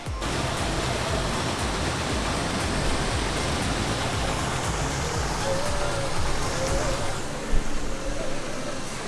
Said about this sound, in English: But it sounds like thunder in here. I'm guessing it's multiple waterfalls